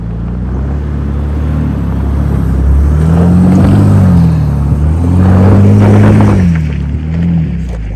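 A 2022 Ford Bronco Raptor in four-wheel drive high climbs a very steep off-road hill, its engine held on a steady throttle, a loud close rumble rising and falling as it pulls upward.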